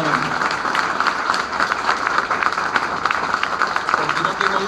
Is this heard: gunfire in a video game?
no